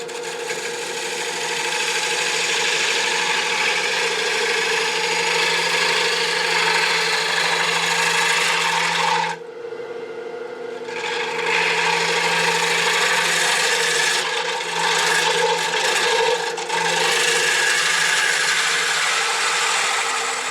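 A 40/40 gouge cuts a cherry burl bowl on a lathe with a loud, continuous scraping and rasping over a low motor hum, broken by two brief pauses where the cut lets up.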